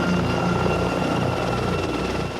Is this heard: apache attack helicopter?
yes